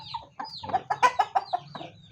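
Several short clucks from Aseel chickens in a quick, uneven series, close and fairly loud, with no talking.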